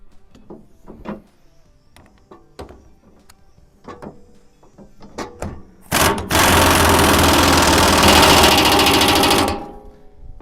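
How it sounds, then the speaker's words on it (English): An impact gun rattles hard in one sustained, loud burst as it tightens the blade bolts on a John Deere mower, preceded by scattered clicks and knocks from positioning the tool. "I'll slide the impact gun on there. Get these things tightened up."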